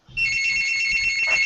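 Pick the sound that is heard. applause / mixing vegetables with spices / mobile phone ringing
mobile phone ringing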